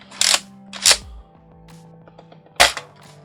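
A Hasbro Aliens Nerf M41-A Pulse Rifle spring blaster fires three sharp, loud snapping shots with a springy twang, the first two close together and the third after a pause, with no talk.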